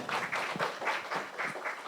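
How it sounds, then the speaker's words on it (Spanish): Brief applause from a panel audience at a journalism festival, a short, moderately loud patter of clapping hands. "Aplausos también"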